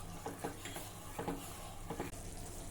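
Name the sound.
sugar syrup boiling in a pan for rava besan barfi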